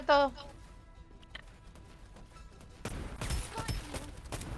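Gunfire from the battle royale video game Farlight 84 breaks out as a dense burst of crackling shots in the second half. A brief voice opens the clip and quieter game sounds run underneath.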